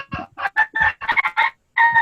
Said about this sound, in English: The chicken singing, it crowing, it doing all kind of things.